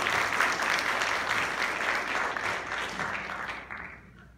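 Audience applause fills a seminar hall on building structural standards: dense, steady clapping from a crowd that holds for several seconds, then thins and fades near the end.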